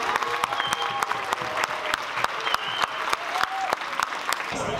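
An audience at a college Vietnamese dinner event applauds: sharp, lively clapping close by, with scattered brief whistles or cheers mixed in, continuing steadily throughout.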